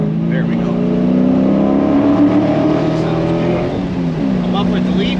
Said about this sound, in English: listen to the gloriousness of this exhaust